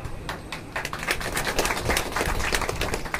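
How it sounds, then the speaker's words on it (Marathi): An audience at a 75th birthday celebration for Baba breaks into applause, a dense patter of many hands clapping that builds and stays steady, close and moderately loud. "निश्चितच या टाळ्या ज्या आहेत त्या बाबांसाठी आहेत"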